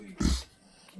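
A dog gives a single short, loud bark or growl up close, followed by quiet room noise.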